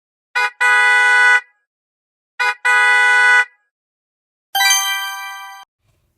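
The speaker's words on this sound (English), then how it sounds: "It's a car horn." A car horn honks loudly and up close: two short-then-long double beeps, each followed by a pause, and then one final long blast that fades out.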